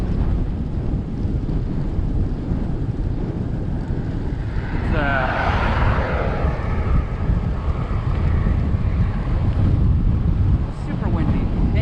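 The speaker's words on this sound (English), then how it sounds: "Whew, it's windy, boy." Strong wind buffets the microphone while riding a white and red Trek Domane AL3 road bike outdoors, a steady loud rumble throughout with a gust swelling midway and someone talking over it.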